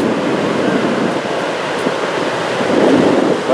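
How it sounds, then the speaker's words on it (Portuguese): Wind and surf roar at Joaquina Beach in Florianópolis, a loud, dense, continuous wash of waves with wind buffeting the microphone throughout. "O vento da água pode derrubar, não?"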